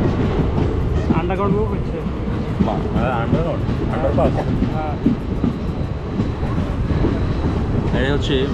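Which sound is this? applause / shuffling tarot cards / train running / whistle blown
train running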